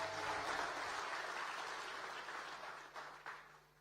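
Audience applause at the Africa Bitcoin Conference 2024 morning session, a steady wash of clapping that stays fairly even before thinning and fading out, with a couple of brief louder bumps near the end.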